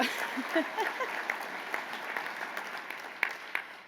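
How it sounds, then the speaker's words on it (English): Soft, scattered applause from a sports hall of fame banquet audience, fairly distant and modest in volume, with a few sharper claps standing out and a brief voice murmuring at the start. "Yes, you can clap."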